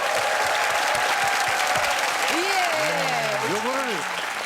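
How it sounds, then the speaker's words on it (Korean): An audience claps steadily through a military variety TV show taping at an army base, loud and continuous, with voices talking over the applause partway through. "박수 박수."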